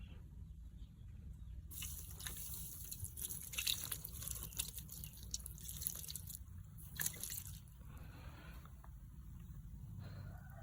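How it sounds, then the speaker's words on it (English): Water poured onto a cement surface, a steady trickling and dripping spatter running throughout at moderate level, with brief louder splashy bursts near the start and again around the middle. "Now let's try pouring water."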